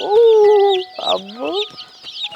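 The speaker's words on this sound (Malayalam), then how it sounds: "തള്ള വിളിക്കുന്നിടത്ത് എല്ലാ കോഴികളും പോവാണ്" A mother hen clucks with loud, drawn calls while her chicks cheep in quick high peeps around her, close by and outdoors.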